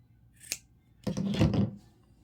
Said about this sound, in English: after you cut the string